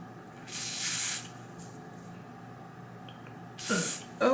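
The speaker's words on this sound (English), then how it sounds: "Like I try my best to spray as closest to like the hair, like down here." Hairspray hisses onto a wig's hairline in two long bursts, close and loud, each lasting under a second, with a quiet pause between and a brief sharp sound at the end.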